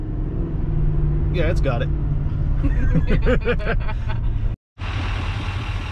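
A Chevy truck drives at the 2022 Knoxville Auto Show test drive, its engine a low, muted hum in the cabin, mostly beneath people talking, with a brief break near the end.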